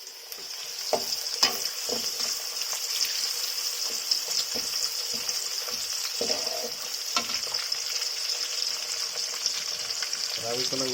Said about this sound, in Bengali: এখন আমরা দিয়ে নেব পেঁয়াজ কুচি